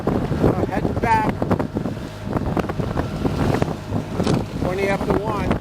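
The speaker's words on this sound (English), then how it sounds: "The wind just whipped up." Wind gusts buffet the microphone aboard a small fishing boat out for porgies, a rough low rumble under nearby voices talking throughout.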